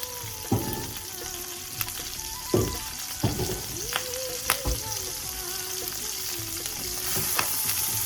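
Pork sizzles steadily in a little olive oil in a pan, a dense crackling hiss broken by sharper pops and the occasional scrape of stirring, close and fairly loud with no voices.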